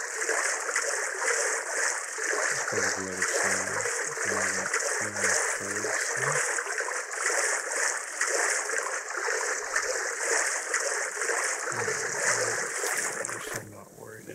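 Splashing, rushing water from swimming in the video game Dark & Light, a steady broadband wash throughout, with a voice speaking briefly over it.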